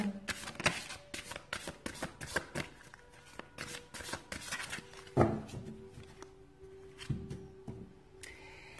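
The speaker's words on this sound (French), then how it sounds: "je vais tirer la première carte" Oracle cards being shuffled and drawn by hand, a rapid, close series of crisp riffling flicks and slaps, with a louder card snap near the middle and softer handling toward the end.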